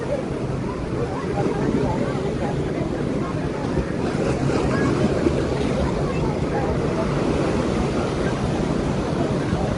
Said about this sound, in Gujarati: ઘાટ ઉપરથી જ્યાં પગથિયા ઉતરવાના હોય છે એ પગથિયા ઉપરથી પાણી જે છે એ વહી જાય છે